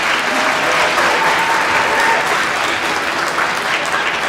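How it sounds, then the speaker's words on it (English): Loud, sustained applause from a large crowd, a dense continuous roar of clapping hands that holds steady throughout. "Everybody give them a round of applause."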